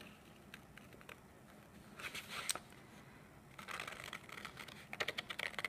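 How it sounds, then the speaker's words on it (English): Scissors snip through paper in short crisp bursts while a paper mola is cut into layers, quiet close-up cutting with pauses between clusters of snips. "it's a little bit easier for me to turn my scissors and continue cutting"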